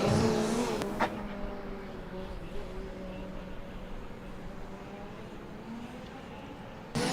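A driverless Formula Student race car sets off on its first lap of the trackdrive, its electric motor whine steady and moderately distant at a leisurely pace, with a sharp knock near the start.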